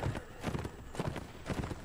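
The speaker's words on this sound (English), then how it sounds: "I see a horse." Horse hooves clip-clop in a video game, several quick uneven strikes in clusters, fairly close and moderately loud, with no speech over them.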